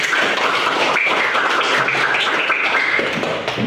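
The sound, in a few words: class clapping hands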